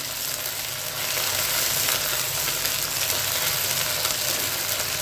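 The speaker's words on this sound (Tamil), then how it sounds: "வெங்காயம் வதங்கட்டும்." Onions, garlic, curry leaves and green chillies fry in oil, likely in a clay pot, giving a steady, loud, close hiss of sizzling that holds evenly throughout with no talking.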